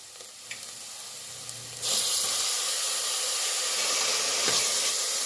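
Ginger garlic paste fries with softened onions in a pan for a soya bean curry, a quiet sizzle that suddenly swells into a loud, steady hiss about two seconds in and holds close and strong.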